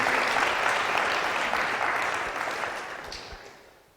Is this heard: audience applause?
yes